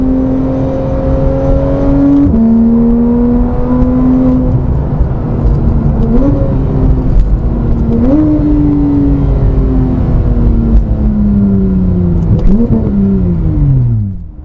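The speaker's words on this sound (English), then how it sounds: "Those downshifts, I'm praying that they're coming out on camera because the sound is just unreal with this car." A 2015 Porsche 911 GT3 (991.1) engine drones loudly at speed, then blips up sharply several times as it downshifts, pitch jumping and falling with each gear change.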